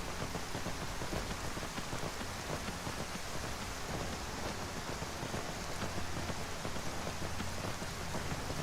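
Steady rain pours in the Skyrim VR game world, a dense, even hiss with soft pattering drops throughout, constant and fairly close, with no voices.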